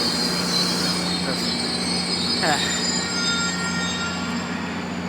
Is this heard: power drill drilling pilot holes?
no